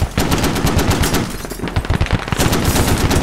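.50 caliber machine gun fire from a Marine anti-armor team comes in loud, continuous bursts of heavy rhythmic shots, briefly thinning in the middle before picking back up.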